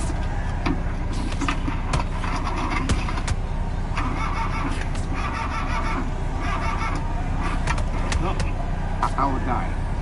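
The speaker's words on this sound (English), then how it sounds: "Car doesn't want to start." A car engine cranks repeatedly in the cold without catching, a steady mechanical churn with rhythmic pulses, while people talk over it.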